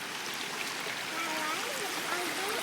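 Brook swollen and rushing during Hurricane Irene in Cranford, New Jersey, water pouring toward a drain; a steady, broadband wash of flowing water runs unbroken throughout, with faint gurgles and no clear speech.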